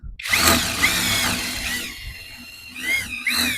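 A Grosser GID 230N cordless impact driver, set to fourth speed, drives a screw. The motor whines loudly at close range in several bursts of rising pitch, with short pauses between them.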